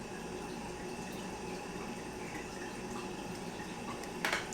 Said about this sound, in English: I'm going to add in my rose water